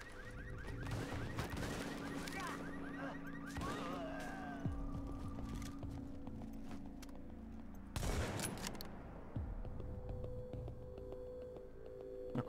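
Suppressive gunfire from a long sustained burst in the shooter Tom Clancy's The Division, with rapid repeated shots, a sharp loud crack partway through, and a steady hum under the firing.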